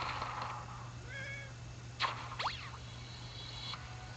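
A house cat meows a few times at low volume indoors, short rising and falling calls against a steady background hum, with one brief higher squeak near the middle.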